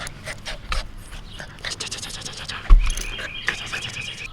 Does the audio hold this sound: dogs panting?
yes